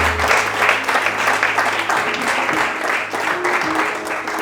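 A church congregation breaks into sustained applause during a French-language sermon, loud, close and even in level for several seconds.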